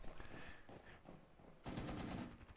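Automatic gunfire in Rainbow Six Siege comes as quiet bursts of rapid shots, with a denser, louder volley near the end.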